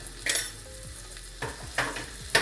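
Fenugreek tadka with red chili powder and turmeric sizzling in a pan, soft hiss broken by several scraping spoon strokes as it is stirred, close and fairly quiet.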